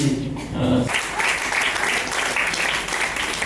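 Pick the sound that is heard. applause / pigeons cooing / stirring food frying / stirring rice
applause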